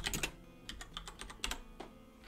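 Quiet, close keystrokes on a computer keyboard tap out a short word in a quick irregular burst of about a dozen clicks, alone with no speech.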